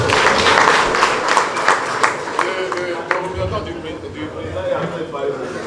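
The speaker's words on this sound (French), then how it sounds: "Acclamez pour eux encore une fois." A crowd applauds the returning mayor at a political party gathering, scattered clapping that swells then thins out while someone speaks over it through amplification.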